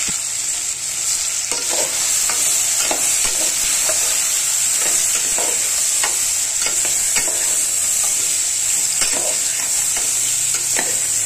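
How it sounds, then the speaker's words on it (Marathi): Bottle gourd and dal fry in hot oil with a constant bright hiss, and a spoon stirs the pan in frequent irregular scrapes and taps, close and continuous. "आणि आता त्याच्यामध्ये हे टाकायचं दुधी भोपळा डाळ आणि तेलामध्ये चांगलं फ्राय होऊन द्यायचं."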